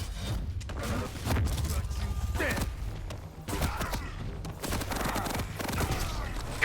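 Rapid bursts of heavy machine gun fire and impact thuds in a Quake Champions match, mixed with game effects and heard under an excited commentator's continuous talk.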